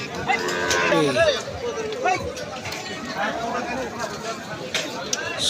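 Cattle, including Sahiwal cows and calves, mooing at a busy village livestock market, with a few low drawn-out calls among constant nearby chatter and crowd babble.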